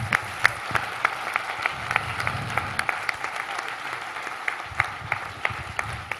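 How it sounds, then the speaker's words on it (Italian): An audience claps through a steady round of applause after a comedy stage play, with dense, even clapping and a few sharper claps standing out, continuous for several seconds. "con un applauso ancora"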